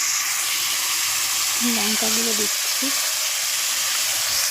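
Ginger, garlic and cumin paste sizzle in hot oil with onions, turmeric and chilli powder, a loud steady frying hiss throughout while someone speaks briefly over it.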